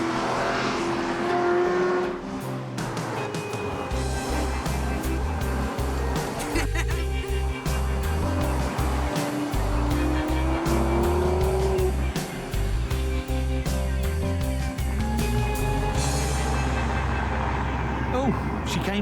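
A Maserati Quattroporte driven hard on a track, engine revving up and down through gears with loud repeated tire squeals and skids, close and continuous, with someone talking over it.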